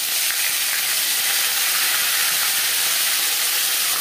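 Ginger paste and green chilli paste sizzle steadily in hot oil after the whole spices are tempered, a dense, even, close hiss with no pauses.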